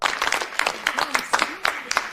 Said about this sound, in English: They said two people clapped after her town hall.